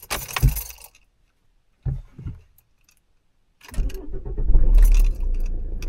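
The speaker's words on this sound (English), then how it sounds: "I need to get the shot of me turning the engine on" Car keys jangle sharply at close range in short bursts, then an engine cranks and catches, settling into a low idle rumble.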